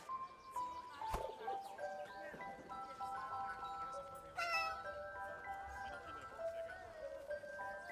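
A cat meows in the video game 11-11: Memories Retold, with drawn-out, wavering cries over soft game ambience, a short sharp knock near the start and a musical swell midway.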